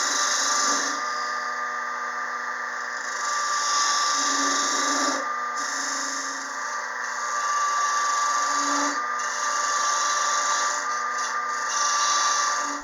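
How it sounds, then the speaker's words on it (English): A parting tool cuts tenons into the end of a wooden pepper mill blank spinning on a lathe, giving a steady, loud scraping and whirring hiss that dips briefly several times as the cut eases off, with no talk. "Next, I'm going to use my parting tool to bring down the tenons on the end."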